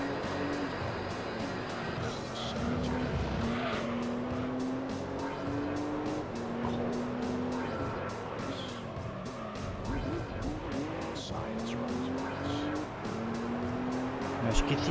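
Gran Turismo 3 race on PS2 with a green Camaro spinning a full 360, steady engine drone with rising and falling pitch across the lap and faint tire noise, alongside a person's voice.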